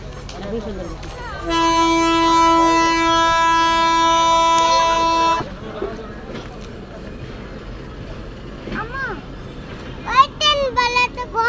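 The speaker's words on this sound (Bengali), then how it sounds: "হ্যাঁ, ট্রেনটা চলে গেল।" A passing train sounds a long, loud, steady horn blast lasting about four seconds, followed by low rumble and voices talking nearby, with a few higher child-like vocal sounds near the end.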